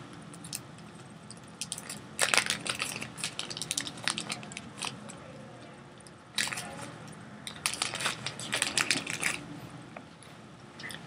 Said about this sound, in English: You remove it from its packaging.